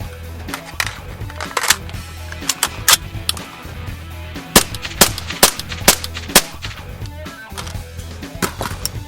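Rifle shots fired through a SureFire suppressor, a series of sharp, fairly close muffled cracks at irregular intervals over steady background noise, with several louder reports in the middle.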